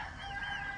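Chickens settled in a bamboo-perched coop on a rooftop, giving a brief continuous murmur of soft clucking and crowing-like calls, moderately close, with no talk over it.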